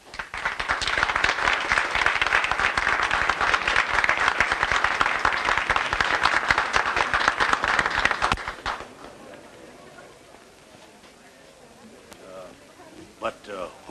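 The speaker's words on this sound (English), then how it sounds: "Who was that applause for just as I came in?" A theatre audience in a 1935 musical film applauds a minstrel performer, thick clapping for about eight seconds that then cuts off sharply into quiet room tone.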